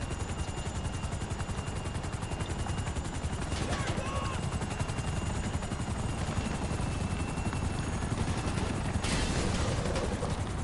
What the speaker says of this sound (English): helicopters might be really annoying.